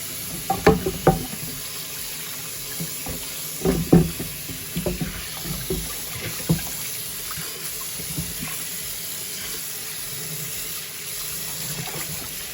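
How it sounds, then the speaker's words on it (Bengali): Hot tap water runs steadily over a whole rohu fish in a kitchen sink, a continuous splashing wash with a few louder bursts early on, close and alone without talk. "এখন মাছটাকে আমি নরম হতে দেবো একটু গরম জল দিয়ে দিচ্ছি এটা তাড়াতাড়ি নরম হয়ে যাবে"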